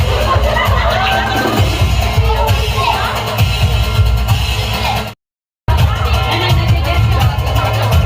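An audience at a comedy event claps and cheers in a loud, continuous wave of applause and shouting, broken by a brief silent gap before the noise resumes.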